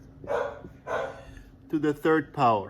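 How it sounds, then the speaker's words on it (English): A dog barks in another room of a house, with several sharp loud barks in a row, partly overlapping a person speaking nearby. "please excuse the barking of the dog"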